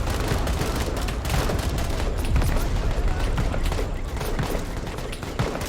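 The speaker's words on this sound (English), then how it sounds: "Look at that artillery, folks." Continuous battle din from a Vietnam War combat video game, with dense rapid gunfire and booming artillery blasts overlapping, loud and unbroken throughout, while a voice talks faintly beneath.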